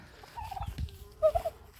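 Chinese silkie chickens in a backyard flock give two short bursts of soft clucking, one early and one near the end, fairly close with low rustling between.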